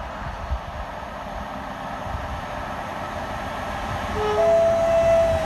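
Class 47 diesel locomotives hauling the English Riviera Express with Pullman carriages pass through Market Harborough station, a deep engine drone and rolling rumble that swells louder toward the end, with a horn-like tone.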